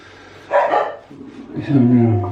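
A dog barks in a short burst, then gives a lower, drawn-out bark or growl, fairly close and loud.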